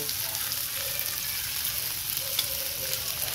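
Steady, loud sizzling and crackling of fish frying in a hot pan, continuous throughout with no one speaking.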